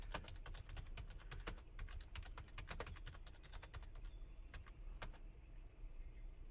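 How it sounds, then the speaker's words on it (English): A computer keyboard clicks in quick, irregular keystrokes, faint and close, over a low steady background hum. "I'm typing in all caps because I'm so pissed."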